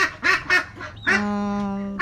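Young ducklings around 45 days old quack in a few short bursts, then give one longer drawn-out call, close by and fairly quiet.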